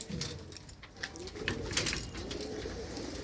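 Pigeons coo softly in a series of low, rolling calls, with faint rustling and a light jingle in the background.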